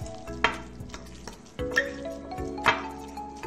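Buldak carbonara instant noodles being stirred with seasoning, giving three distinct sticky scrapes and clinks against the pot or bowl over a low, steady background, close and moderately loud.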